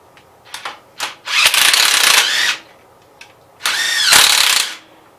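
A power tool whirs in two loud, sustained bursts, each a second or more, with a few short blips before, as it turns studs loose while a side cover is taken off a 1973 Gravely 810 tractor.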